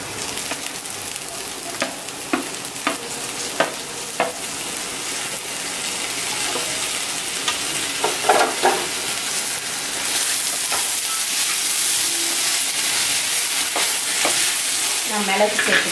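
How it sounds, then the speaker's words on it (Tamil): Fish is added to a hot pan with coconut and onion and fried, a steady close sizzle with scraping stirs and clinks that grows louder and hissier as it cooks. "இப்ப வந்து நான் மீனை சேர்த்துக்கிறேன்."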